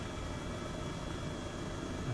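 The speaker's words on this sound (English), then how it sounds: "flying over it with the helicopter" Steady, dense rotor and engine drone of a helicopter flying in Microsoft Flight Simulator 2020 fills the scene evenly throughout, with no talk.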